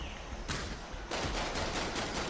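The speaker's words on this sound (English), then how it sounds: "as the gunfire begins" Tabletop role-play session of Imperium Maledictum with a steady wash of gunfire effects, a burst starting and then dense continuous rapid fire from about a second in, loud and unbroken.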